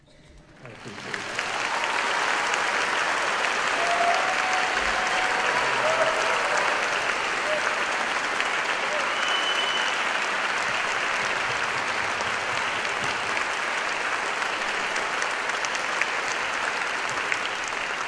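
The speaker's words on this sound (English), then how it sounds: "please help me by your thunderous applause" Audience applause after an intermediate orchestra's final concert of the year, a dense, steady clapping that swells in within the first two seconds and holds loud and even to the end, with no talking over it.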